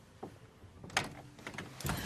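A door is handled and opened in a TV drama scene, with a faint click followed by sliding and rattling movement and a closing thud, at moderate distance and with no talking.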